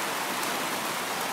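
Heavy torrential rain pours down in a steady, dense hiss with no breaks, loud and close throughout.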